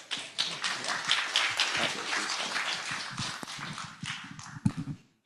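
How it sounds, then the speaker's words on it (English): An audience claps for a raffle winner at a community meeting, a dense burst of hand claps that thins into scattered sharp claps before fading out. "Give her a round of applause,"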